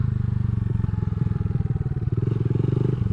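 A Honda Grom motorcycle does sit-down circle wheelies, its small single-cylinder engine putting out a loud, close, steady low putter with slight shifts in pitch as the throttle is held.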